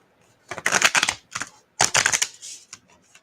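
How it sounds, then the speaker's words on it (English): Tarot cards being shuffled in two dense bursts of crisp, rapid riffling clicks, close to the mic, with short pauses and a few lighter taps between them. "Sorry if you guys don't like this sound of shuffling."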